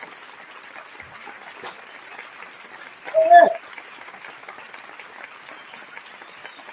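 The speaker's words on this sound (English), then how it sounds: "Come on, let's all give it a round of applause." A small audience gives a faint, steady round of applause at a spoken presentation, soft scattered clapping running under the room with a brief voice calling out midway.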